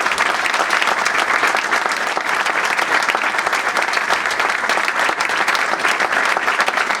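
Loud, sustained applause from the audience at a provincial labour congress, dense and steady throughout with no pause and no speech over it.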